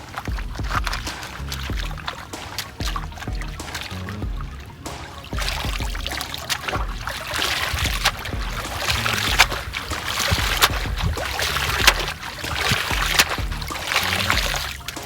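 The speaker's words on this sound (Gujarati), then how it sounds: "આપણે મરચા અને કોથમીર ચોખ્ખું પાણી ખેતરમાં વળ્યું આપણે તો ધોઈ નાખશું" Chilies and coriander being washed in clean running water outdoors at a farm, a steady splashing, trickling pour close by that continues throughout with rising intensity, no voices.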